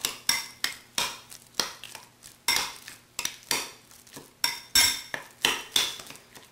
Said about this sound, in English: Now the ground pork has been mixed well.